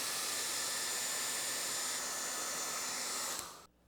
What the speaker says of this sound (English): I'm going to put this under the hair dryer.